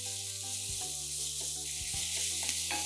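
Onions sizzle steadily in hot olive or vegetable oil in a pan, a close, continuous crackling fry with a soft background hum.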